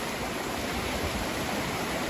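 Fast-flowing stream water rushing steadily over slick rocks in a shallow crossing, a close, continuous broadband roar with no talk.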